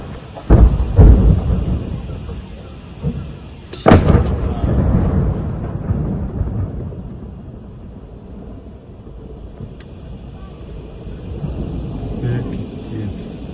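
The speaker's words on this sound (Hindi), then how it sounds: "रशिया ने यूक्रेन के हथियार के गोदाम को ट्रैक किया और उस पूरे गोदाम को ही उड़ा दिया" A blown-up weapons warehouse in Ukraine, a series of heavy booming blasts and rumbling bursts followed by crackling pops and distant thuds, with someone speaking over the explosions.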